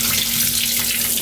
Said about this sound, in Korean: 이렇게 손을 넣어서 깨끗하게 씻어내면 됩니다.